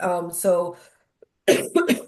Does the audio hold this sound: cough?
yes